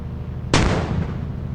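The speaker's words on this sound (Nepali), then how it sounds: "बम हान्ने हो।" A single sharp, punchy blast of a bomb launched in a car-combat video game hits suddenly and decays quickly over a low steady game hum.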